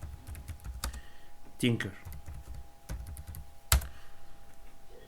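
Keys on a computer keyboard clatter in short uneven bursts as a command is typed, with a louder tap near the end, while a person talks throughout.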